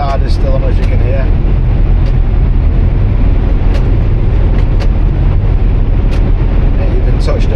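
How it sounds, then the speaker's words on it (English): A heavy truck's engine retarder holds it back on a long downhill descent, a loud continuous low rumble and roar of road and drivetrain noise filling the whole stretch, with a voice talking over it. "I'm still dropping, retarder still on, as you can hear."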